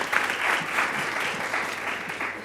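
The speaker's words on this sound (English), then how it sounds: "A round of applause for that amazing partnership example." An audience at a health partnership roundtable breaks into a short burst of steady, dense clapping that carries on evenly for a couple of seconds and fades slightly at the end.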